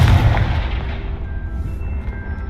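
A Confringo explosive spell blast in the Hogwarts Legacy video game: one loud, heavy boom at the start that rolls off into a long, rumbling decay.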